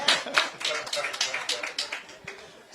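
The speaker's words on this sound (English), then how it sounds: "Come on, round of applause, folks." An audience at a New York Young Republican Club panel on crime in NYC breaks into applause: a dense patter of claps swelling and fading in uneven waves for about three seconds, with a few voices mixed in.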